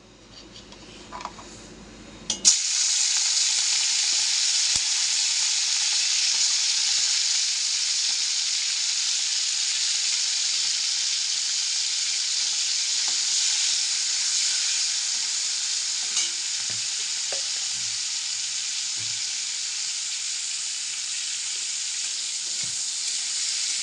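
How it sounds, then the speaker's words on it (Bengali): Large prawns, cut into small pieces, fry in hot oil in a pan. After a brief quiet start the oil bursts into a loud, steady, hissing sizzle that continues unbroken to the end, close and with no talk. "মোচা চিংড়ি মাছটা ভেজে নিই"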